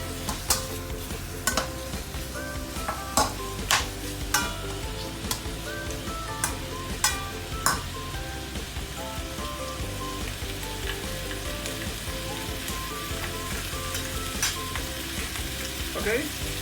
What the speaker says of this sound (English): I will stir fry this until the meat a bit char on the surface.